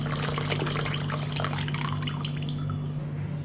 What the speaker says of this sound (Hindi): इसमें हम ऐड कर देंगे 1 गिलास के करीब पानी।